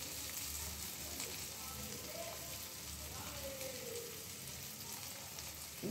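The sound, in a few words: spices added to softened tomatoes sizzling in a pan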